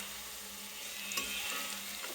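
Cashews and onions fry in a pan, giving a steady, moderate sizzling hiss with a faint clink of stirring partway through.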